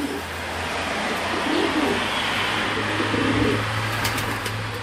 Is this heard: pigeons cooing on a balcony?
yes